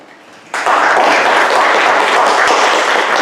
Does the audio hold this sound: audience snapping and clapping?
yes